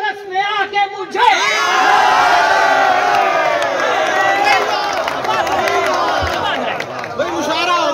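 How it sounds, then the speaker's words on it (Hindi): An audience at a Urdu poetry recital (mushaira) bursts into loud applause mixed with shouts and cheers. The clapping is close and sustained, and a speaking voice comes before it. "तालियां बजाई जाए, तालियां बजाई।"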